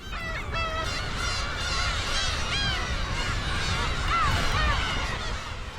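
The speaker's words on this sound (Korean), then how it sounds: "괭이갈매기들의 집짓기가 한창이다" A large colony of black-tailed gulls nesting among sedge on the sea cliffs of Hongdo, a dense, continuous chorus of overlapping mewing and honking calls, loud and close.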